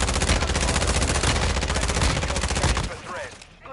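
Rapid, sustained video game gunfire in a Call of Duty-style shooter, loud and dense for about three seconds before cutting off, with faint game voice chatter underneath.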